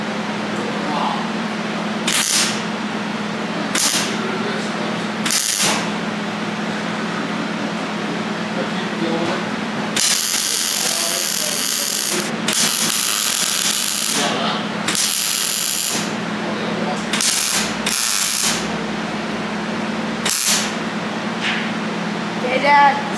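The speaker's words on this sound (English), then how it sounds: "11-year-old going to be welding" An 11-year-old welding on a snow sled during a rebuild, with repeated bursts of buzzing, crackling arc noise separated by pauses over a steady background hum, and people talking nearby.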